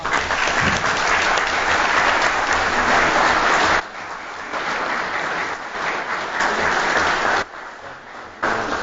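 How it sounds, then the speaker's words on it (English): A room full of people at a city board of mayor and aldermen meeting applauds loudly, the clapping holding steady and then dipping and resuming in uneven waves before fading out. "can you give her a round of applause?"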